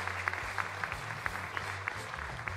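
An audience at a regional sports awards ceremony applauds steadily, a dense patter of many hands clapping with light rhythmic accents, moderately loud and continuous, with no clear talk over it.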